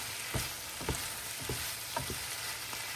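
Vegetables are stir-fried in a pan with a soft, continuous sizzle, broken by several brief scraping clatters as they are stirred at roughly half-second intervals.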